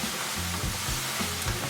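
Steady, close sizzling of Thai-style duck stir-frying in a pan over very high heat, with occasional soft scraping and tossing sounds.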